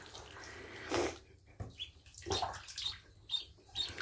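Ducklings bathing in a bathtub, with faint splashes and water movement, small chirps and peeps, and occasional light knocks on the tub in an uneven pattern, quiet and close.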